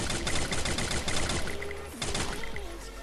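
Rapid automatic gunfire in the battle royale game Free Fire, dense bursts of shots rattling almost without pause, loud and close, with a brief lull before the firing resumes.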